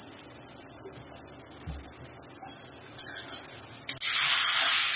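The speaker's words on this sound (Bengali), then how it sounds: "এবার ভালোভাবে মশলার সঙ্গে আলুটা কষিয়ে নেব।" Potato pieces frying with spices in an oil-filled pan, a continuous close sizzling hiss that swells louder toward the end, with no talking.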